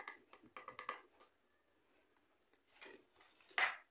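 Lemon cake batter tinted with turmeric is mixed in a bowl, producing quick, quiet, close clicking and scraping taps of a utensil against the bowl, then a pause and a few more scrapes ending in a sharper knock.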